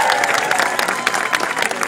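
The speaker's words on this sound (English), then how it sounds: "Let's give it one big round of applause for the neon." A crowd applauds at an art exhibition opening for a neon piece, with continuous close clapping and a light murmur of voices.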